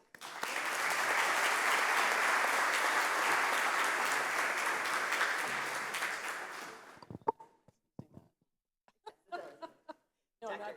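Audience at a SEPTA awards ceremony bursts into loud, sustained applause welcoming Dr. Reed, lasting about seven seconds before cutting off into scattered chuckles and brief talk.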